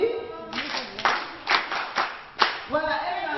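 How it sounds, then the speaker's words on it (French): A small group claps sparsely in a few uneven bursts during a French-language talk on babies' attachment to mothers, with voices speaking before and after the clapping. "On applaudit."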